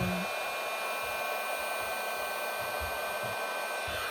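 A heat gun blowing over epoxy on a rolling tray, with a continuous close, loud rushing hiss of air that stays steady throughout with no pauses.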